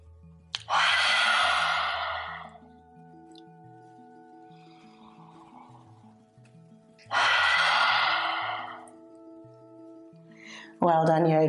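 Two forceful open-mouthed exhales, tongue out, in yoga breathing, each a loud rushing burst separated by a long quiet pause, with soft sustained background music underneath.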